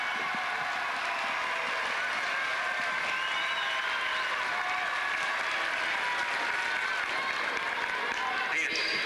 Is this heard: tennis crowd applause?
yes